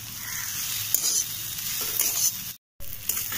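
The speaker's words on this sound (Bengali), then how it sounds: "ভালো করে মিশিয়ে নিচ্ছি," Radish greens with grated ginger frying and being stirred in a pan, a close, steady sizzle with scraping stirs, briefly cut to silence before the frying resumes.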